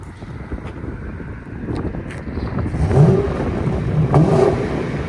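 Close, loud exhaust note from a 2004 Lincoln Town Car's 4.6L V8 fitted with a Flowmaster Flow FX system, rumbling steadily and swelling in two rev surges near the end, with light wind noise.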